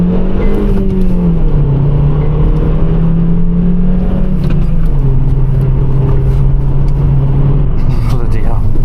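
A car being driven hard with its engine revving and droning loudly from inside the cabin, pitch rising and settling under continuous road noise, with people talking over it.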